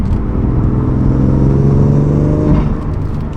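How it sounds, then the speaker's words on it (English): An F80 BMW M3 with an aftermarket intake revs loudly and steadily, a deep droning rumble of intake and exhaust with rising pitch swells, close up and continuous for a few seconds. "And then you can hear the exhaust at the end there."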